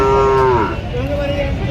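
A Sahiwal bull at the traditional Notunhat cattle market in Joypurhat, North Bengal, gives one loud, close moo that slides downward, then fades into a lower drawn-out tail over busy market noise.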